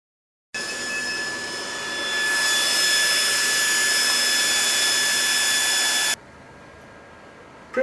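A ValueJet 426UF UV printer runs through a print pass, a steady whirring mechanical hum that rises and grows louder partway through, then abruptly drops to a quieter idle hum near the end.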